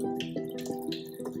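Cooled ginger simple syrup made with sugar pours steadily into water kefir, a continuous liquid trickle with gurgling, bubbly splashes throughout.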